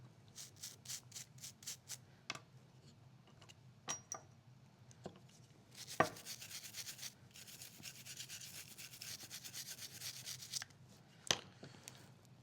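A Taurus TX22 pistol's components get scrubbed with solvent to lift carbon and dirt: quiet, uneven brushing and rubbing strokes with occasional small clicks and taps of parts.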